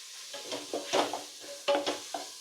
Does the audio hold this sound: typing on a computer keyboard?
no